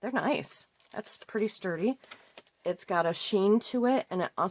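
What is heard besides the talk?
No everyday noises stand out.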